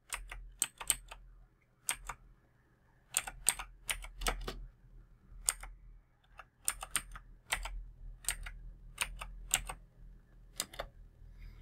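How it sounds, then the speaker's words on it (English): Sharp, dry key clicks on a computer keyboard, typed in quick irregular bursts with short pauses, close and clear over a quiet low hum while commands are entered. "Type following commands to repair master boot record and boot sector"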